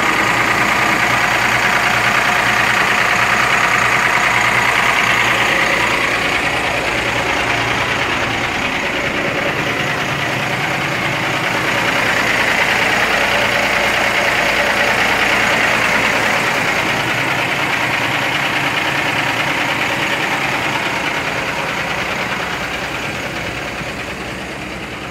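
A six-cylinder vehicle engine held at a steady idle during an opacity emissions test, a loud continuous low rumble with slight knocking texture that eases gently toward the end, nobody talking.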